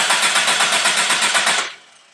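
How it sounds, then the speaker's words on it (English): A car engine cranks in a fast, steady, rhythmic churn with the starter motor under test and a battery connected, loud and close, then cuts off abruptly and fades into quiet after under two seconds. "Let's crank the engine."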